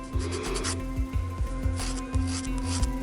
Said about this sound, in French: Donc je peux limer la surface de l'ongle avec.